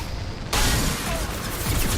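Gunfire in Mass Effect 2 Legendary Edition bursts out suddenly, a dense, loud rattle of shots that runs continuously for a moment after a quieter lead-in.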